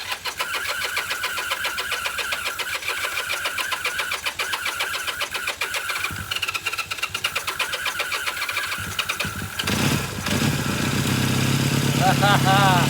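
1978 Kawasaki KZ400 motorcycle with newly installed exhaust and carburetor, cranking with a fast rhythmic starter churn before the engine catches near the end and settles into a loud, close, rough idle.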